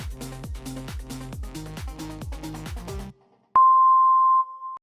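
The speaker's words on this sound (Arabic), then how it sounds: "استمروا لحد ما تسمع المنبه وتوقفوا" Music with a steady beat plays, cuts out, then a single loud, sustained electronic beep tone sounds for about a second.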